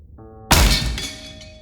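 A ceiling fan with metal blades crashing down onto a wooden desk, one sudden loud smash with a shattering clatter that rings out and decays over about a second after a quiet lead-in.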